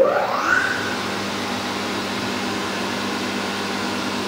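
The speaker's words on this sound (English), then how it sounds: "We're now gonna turn that spindle to counterclockwise," A US Concepts CTS-130 tilting vertical arch shaper moulder spindle spins counterclockwise, giving a steady, even mechanical whir that settles after a brief rising start-up and holds constant at moderate level.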